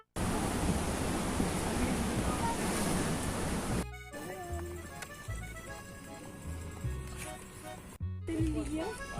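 Sea surf at a beach in Bulgaria rushes in a loud, dense wash for about four seconds, then drops to a softer background while voices talk.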